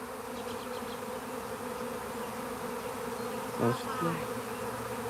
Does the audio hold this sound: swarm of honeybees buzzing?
yes